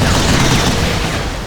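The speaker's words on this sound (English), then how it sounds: "I'm using the heavy rifle here. Heavy machine gun, actually." A loud, dense burst of heavy machine gun fire in the shooter Vanquish, a continuous roaring rattle that fills the whole moment without pause.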